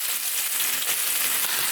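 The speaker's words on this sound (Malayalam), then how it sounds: "ഒത്തിരി കൂടിക്കിടക്കാതെ നമുക്ക് കുറച്ചായിട്ടിട്ട് വറുത്തെടുക്കാം." Anchovies frying in hot coconut oil for pickle, a steady dense crackling sizzle held close and loud throughout, with no voices over it.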